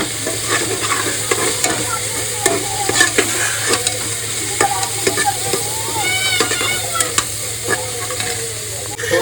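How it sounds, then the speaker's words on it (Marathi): Coriander frying in a pan for goat paya soup, a steady close sizzle with scraping stirs and light clinks throughout, no voices. "कोथिंबीर मस्त भाजून निघेल"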